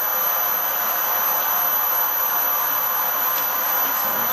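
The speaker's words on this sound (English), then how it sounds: "we've got a VSD on the mill at long last, thank goodness, and we are running at" A milling machine running on a variable speed drive at about 550 RPM gives a steady, even whir with a constant high whine, unbroken and close.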